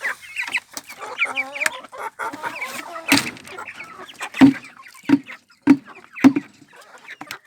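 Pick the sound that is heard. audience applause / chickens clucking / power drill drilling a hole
chickens clucking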